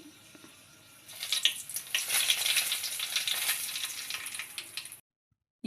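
Cumin, mustard seeds and curry leaves crackle and sizzle in hot oil, a dense, steady frying hiss that builds after a quiet second, holds loud and close, then cuts off abruptly.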